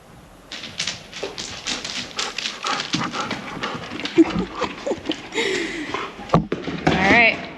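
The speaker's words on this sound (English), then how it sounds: "He's been such a happy dog." A happy dog pants in quick, rhythmic breaths close by, with a person talking over it and a few sharper bumps and clatters near the end.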